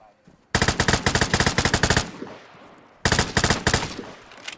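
Automatic gunfire in a video game shooter rattles out in two loud, rapid bursts of evenly spaced shots separated by a short lull, close and punchy, with faint voices underneath.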